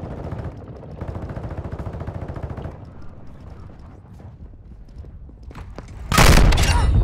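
Gunfire in the Call of Duty: Modern Warfare II game, with a rapid, rhythmic burst of automatic fire, lighter scattered shots, and then a sudden loud, close explosion-like blast near the end.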